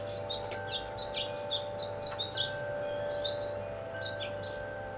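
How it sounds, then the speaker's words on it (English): Birds chirp and tweet repeatedly at a moderate distance, with occasional harsher caws mixed in over a steady low background hum. "The birds are even noisier here."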